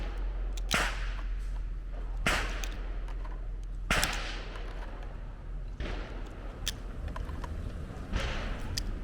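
Sharp reports from a Glock G43X pistol firing hollow point rounds, about five spaced shots at irregular intervals over a steady outdoor background, each a sudden broadband crack with a short tail.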